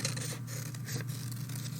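Scissors cut shapes out of a large sheet of paper in a steady, close rasping snip with soft rubbing, under a constant low hum and with no voices.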